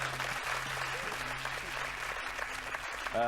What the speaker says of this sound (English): Round of applause for Ollie.